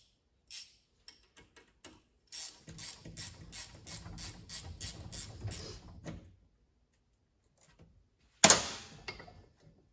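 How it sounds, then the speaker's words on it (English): Ratcheting wrench clicks in a quick rhythmic series while a 14mm nut is tightened back onto a Ski-doo KYB Pro 36 reservoir shock, close and fairly loud, followed by a brief sharp mechanical clatter near the end. "put the nut back on, take our 14mm wrench, tighten it all back up"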